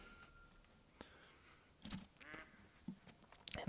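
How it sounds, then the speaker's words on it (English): Ducks on Layton Lake in the hunting game theHunter: Call of the Wild give a few short, scattered quacks against a faint outdoor ambience, soft and somewhat distant, growing a little livelier toward the end. "there's a bunch of ducks"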